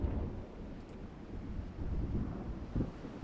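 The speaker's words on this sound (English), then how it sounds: "And here comes a storm." A storm rolls in during a naval battle in Ultimate Admiral Dreadnoughts, low rumbling thunder and wind buffeting in a heavy, murky wash with a brief sharper burst near the end.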